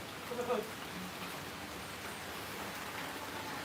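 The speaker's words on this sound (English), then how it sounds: "It's raining. It's starting to rain a little bit heavy." Rain begins falling on a street in the Klongtoey slums, a steady fine hiss of drops spreading evenly across the scene, with a short louder patter near the start and faint voices underneath.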